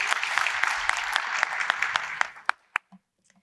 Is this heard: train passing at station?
no